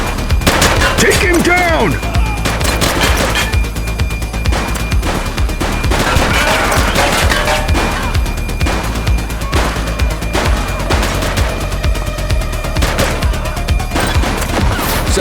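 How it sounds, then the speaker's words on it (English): Dense gunfire rattles through a police shootout in the video game The Precinct, with rapid bursts and single shots overlapping loudly and continuously while voices shout commands. "Shots fired!"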